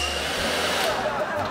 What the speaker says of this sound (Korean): 아 그리고 드라이기.